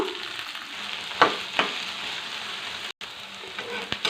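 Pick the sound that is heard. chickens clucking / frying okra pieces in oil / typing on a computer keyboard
frying okra pieces in oil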